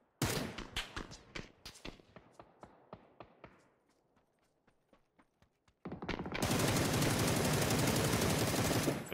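Bursts of automatic gunfire aimed at the player in a PUBG-style battle royale game: a rapid string of sharp shots, then sparser cracks, then a loud, dense sustained barrage at close range.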